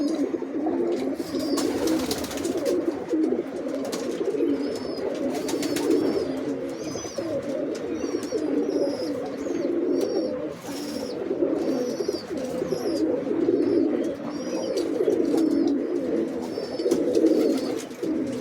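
Domestic country pigeons, giribaz and teddy breeds, coo steadily from close by. The soft, repeated calls overlap throughout, with occasional higher chirps.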